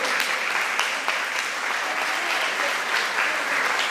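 A church congregation applauding during a Portuguese-language service, dense sustained clapping from many hands at a steady, fairly loud level without speech.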